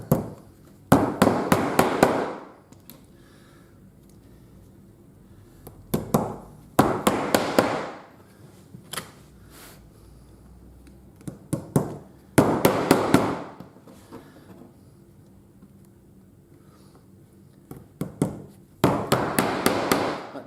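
Hammer blows drive tacks to fasten a piece of leather onto a wooden buff stick for tool sharpening, landing in several quick bursts of sharp, close taps separated by short pauses.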